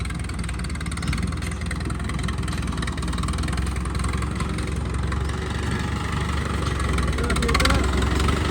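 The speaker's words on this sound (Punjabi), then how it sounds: "ਇੱਧਰ ਆਪਣਾ ਟਰੈਕਟਰ ਵੀ ਆ ਗਿਆ" A tractor engine idles close by during a wheat harvest, a steady low rumble with a constant mechanical chug throughout.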